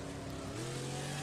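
A race car engine drones steadily in the Wreckfest racing game, nearby and continuous. Its pitch climbs into a higher sustained tone about halfway through the short burst.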